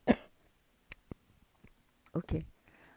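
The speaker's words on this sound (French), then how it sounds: "Excusez-moi, il faut que je tousse" A few short coughs and throat-clearing bursts, close by and separated by brief pauses, with quiet clicks between them.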